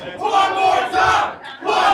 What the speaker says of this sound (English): The crowd is chanting one more time